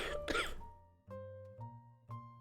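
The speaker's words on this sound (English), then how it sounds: "And I'm coughing." A sick person coughs close to the microphone: one harsh burst, then a few short, softer throat-clearing coughs spaced about half a second apart.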